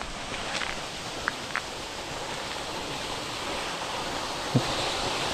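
Steady rushing water roars as a broad, even wash of noise, with a few faint clicks and knocks along the way.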